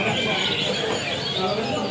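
Dense chorus of caged songbirds chirping and cooing at the Pramuka bird market in Jakarta, a steady busy wash of calls with crowd murmur underneath.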